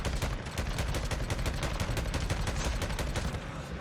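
Rapid, continuous gunfire from the video game Days Gone while shooting freakers, dense bursts of shots with no pauses, moderately loud.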